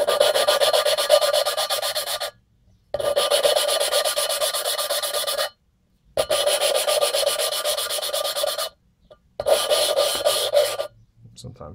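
Valves are lapped into MTi 862 cylinder heads for an LQ4 engine build with a suction cup tool, giving four long bursts of gritty, rhythmic rubbing and rasping, close and loud, separated by short silences.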